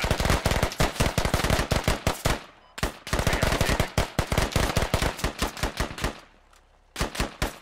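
Rapid automatic gunfire aimed at an enemy in the Squad video game rings out in loud, close bursts, a long string of shots, a brief pause, another sustained burst, then a short final volley.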